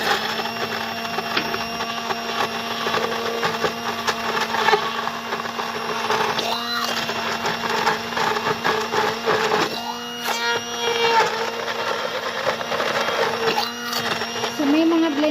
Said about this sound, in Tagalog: Durugin na natin ang kamatis at ang sibuyas mga kabarks.